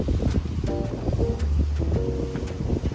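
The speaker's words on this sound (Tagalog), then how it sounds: "Grabe ang hangin." Strong sandstorm wind gusts buffet the microphone in Abu Dhabi with a rough, rumbling roar and bursts of noise, close and continuous.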